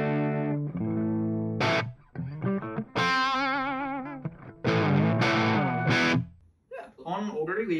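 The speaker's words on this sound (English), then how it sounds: "For this, we'll use the bridge pickup, which I actually have a Wolfie Tone Mark II put in here, Alnico 5 magnet." Custom Les Paul guitar through a Wolfie Tone Mark II Alnico 5 bridge pickup at high gain, loud distorted riffs with sustained chords, bends and vibrato, short pauses between phrases, no talking.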